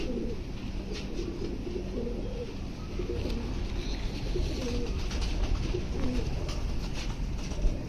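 Lakha pigeons coo in soft, repeated throaty phrases over a constant background hum, calling steadily throughout.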